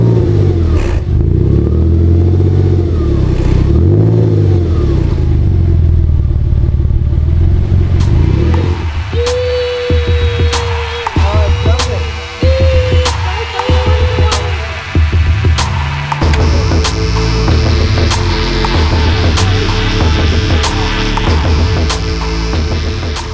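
A Porsche sports car engine drones steadily, rising and falling as it accelerates, with clicks and rattles from inside the cabin; no talking.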